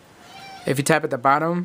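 A pet cat meows once, a drawn-out call that starts under a man's speech and then overlaps it.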